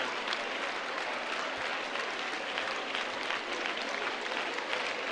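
A church congregation applauds during a French-language deliverance service, with steady dense clapping running evenly throughout and no speech on top.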